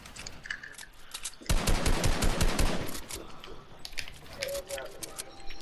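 Rapid SMG gunfire from Fortnite, a dense burst of fast automatic shots lasting about a second and a half, then scattered shots, with game sounds around it and a player talking.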